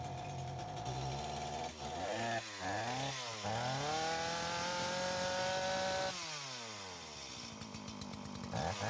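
A STIHL MS180 chainsaw, throttle locked at full, fires up after pull-starting and revs hard, its pitch sweeping up and down, then holds a loud, steady high whine before dropping back, close by with no talk.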